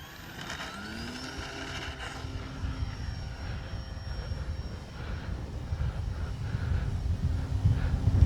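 Arrows RC Tecnam model airplane's electric motor spools up for takeoff: a steady rising whine with broadband rushing noise that grows louder over several seconds, no talk.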